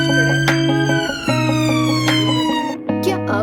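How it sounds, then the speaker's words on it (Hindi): An emergency siren with alternating two-tone wails, loud and steady, heard from a hotel room in London. "क्या आपको भी सायरन की घंटी सुनाई दी?"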